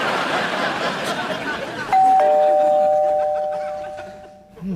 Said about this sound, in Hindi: नीचे घंटी बज गई, मेहमान आते होंगे